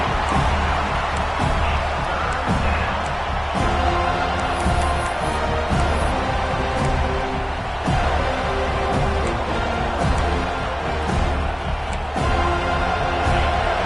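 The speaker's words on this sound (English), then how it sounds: "Decibels rising as the crowd gets behind this defense on 3rd down." A football stadium crowd cheering in the NCAA 26 video game, a loud, steady roar of massed voices building on a third-down defensive stand and holding throughout.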